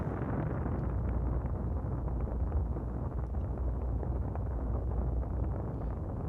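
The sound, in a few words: spaceship engine exhaust effect in video game Nexus: The Jupiter Incident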